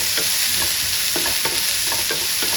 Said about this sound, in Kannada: ಇವಾಗ ಕಾಯಿ ಮೆಣಸು ಸ್ವಲ್ಪ ಫ್ರೈ ಆಗಿ